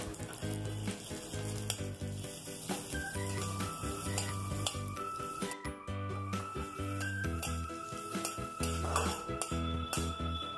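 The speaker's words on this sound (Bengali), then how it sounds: "ঘিটা সামান্য গরম হলে এতে আমি কিছু কাজু বাদাম হালকা বাদামি করে ভেজে নেব।" Cashew nuts fry in ghee in a wok, a soft steady sizzle with light metallic clinks of a spoon against the pan, fairly quiet under a tonal background.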